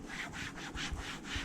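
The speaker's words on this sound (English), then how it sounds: "rub off all of that excess product on there" Cloth rubbing excess plastic restorer off the bumper of an Audi 5000 CS Turbo, a steady back-and-forth scrubbing with about six even strokes, close and fairly loud, with no talking.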